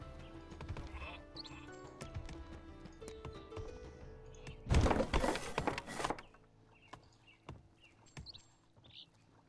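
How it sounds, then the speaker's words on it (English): Sheep bleat in the video game Northgard, heard as brief soft calls amid game ambience, with a louder burst of noise near the middle. "There's sheep."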